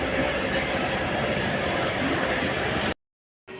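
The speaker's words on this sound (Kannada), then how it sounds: "ಇವಾಗ ಮತ್ಸ್ಯಗಂಧ ಮಂಗಳೂರಿಂದ ಬಂದ ಟ್ರೈನ್ ಹೊರಟಿತ್ತು" The Matsyagandha train from Mangalore pulls away with a steady, loud, close rumble of wheels and carriages that cuts out briefly near the end before resuming.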